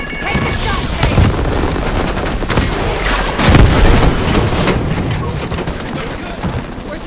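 In Call of Duty Black Ops 6, a rocket fires and explodes amid steady gunfire, with a heavy boom swelling near the middle of the sequence, loud and close, under in-game voices.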